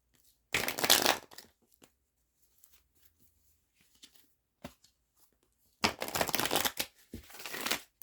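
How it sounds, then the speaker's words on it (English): A tarot card deck is shuffled in two brisk, crackling bursts, one short and one longer, separated by near silence with faint small handling noises. "Give this deck a quick shuffle."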